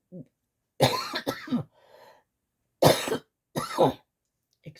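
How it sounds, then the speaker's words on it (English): Several harsh coughs in separate bursts, close to the microphone, with a short throat-clearing sound in between and brief pauses. "sorry about the coughing."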